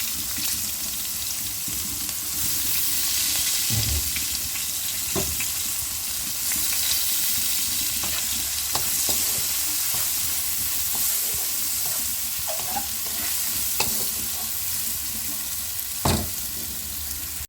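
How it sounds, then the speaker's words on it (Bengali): Chopped onion fries in a pan for Bengali katla fish kalia, giving a steady, loud sizzle and hiss throughout with occasional clicks and scrapes of stirring. "পর আমি কুচনো পেঁয়াজ অ্যাড করে দিলাম।"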